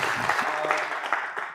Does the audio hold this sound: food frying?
no